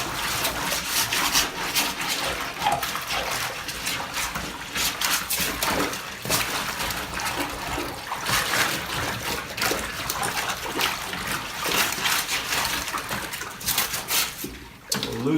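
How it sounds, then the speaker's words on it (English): Dish brush scrubbing a soaked Stone Glacier hunting backpack and frame to lift out blood, stains and fat, giving steady wet, splashy brushing strokes close up with running water. "It's time to come in with the dish brush and try to buff out all the blood and stains and fat that have stuck to your bag and frame here."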